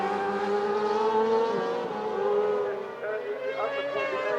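A racing sidecar motorcycle at Cadwell Park during a British Sidecar Championship race, its high-pitched engine wailing and shifting pitch as it passes, with a commentator's voice over it.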